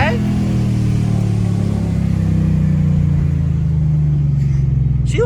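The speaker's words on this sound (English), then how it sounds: "So let's see a little bit of some Mustang horsepower." A 2012 Procharged Ford Mustang accelerates with a loud, steady low engine rumble that builds in pitch over about five seconds, recorded from inside the car while people talk.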